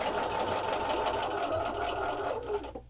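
A sewing machine with an open-toed foot runs steadily along the seam of a fabric cross-stitch ornament, a fast close mechanical whirr and needle chatter that slows and stops at the end.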